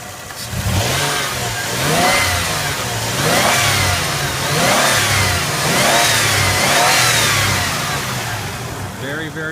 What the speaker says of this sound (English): Very, very smooth engine.